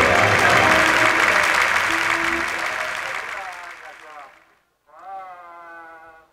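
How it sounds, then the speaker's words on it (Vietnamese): A crowd applauds loudly at a village temple inauguration ceremony, dense clapping that fades out over several seconds, followed by someone speaking over a public address system. "Xin đề nghị chúng ta nổ những tràng pháo tay thật lớn"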